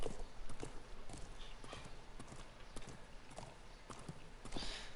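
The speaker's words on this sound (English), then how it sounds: "At least I get a horse." Steady clip-clop of horse hooves walking on a hard surface in an even rhythm in the Game of Thrones video game, faint and continuous.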